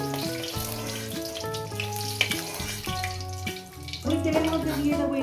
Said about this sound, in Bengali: ডিমটা আমার সুন্দর করে ভেজে নিচ্ছি বন্ধুরা।